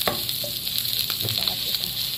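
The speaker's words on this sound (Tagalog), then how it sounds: "Igisa ulit natin dyan sa kanyang mantika." Ground pork sautés in its own rendered fat in a pan, crackling with a constant close sizzle broken by spoon scrapes and stirring clatter.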